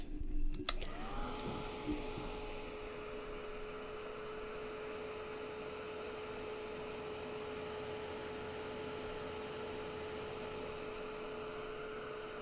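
A hair dryer runs steadily and close, drying freshly painted lettering on a vintage poppy painting; it starts with a click and holds a continuous whooshing roar with a faint whine, with no talk over it.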